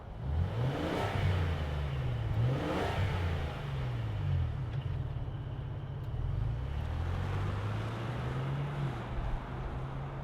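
A 2025 Ford Expedition Platinum SUV with the Stealth Performance package idles and revs, its engine rising and falling in several throttle blips before settling into a steady drone, fairly close.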